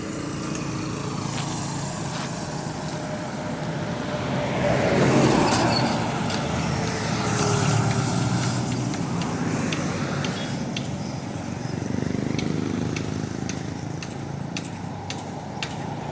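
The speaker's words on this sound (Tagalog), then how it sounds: "Ito yung highway ng Mawab mga kababayan." Road traffic on the national highway in Mawab, Davao de Oro, a wide, uncongested provincial road: a steady wash of passing vehicle engines that swells as cars go by, near and moderately loud, with no talk.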